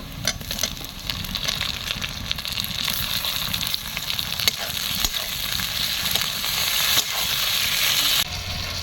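Chopped tomatoes frying with onions in a pan of hot oil, a steady close sizzle with frequent stirring scrapes and clacks throughout.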